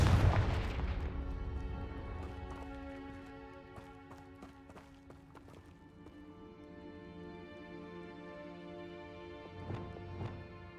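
In Hogwarts Legacy, a Confringo blasting spell explodes with a loud burst at the start, then fades into scattered cracks and thuds, followed by a couple of sharper hits near the end.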